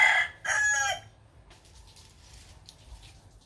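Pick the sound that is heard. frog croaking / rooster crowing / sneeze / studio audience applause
rooster crowing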